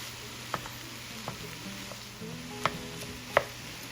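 Vegetables and meats for keto Cajun dirty rice are stirred together in a pot, a faint steady sizzle broken by a few soft clinks and scrapes of the spoon.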